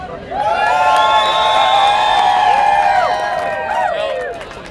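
Home crowd at a pro 4-man beach volleyball semifinal, California vs Texas, roars loudly and steadily for several seconds, with shrill whoops and whistling cries rising above a dense wall of cheering.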